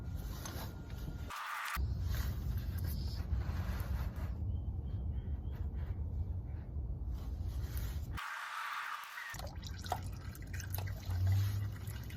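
Old engine oil drains from a 1973 AMC Gremlin into a pan as a faint, steady trickle, with soft drips and light background noise and a couple of brief gaps.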